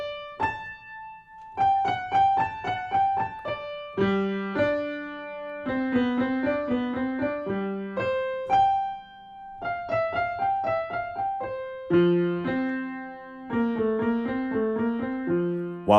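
An organ plays interweaving contrapuntal lines in the hands, with quick moving notes in the upper voices above a steady pedal theme, no voices present.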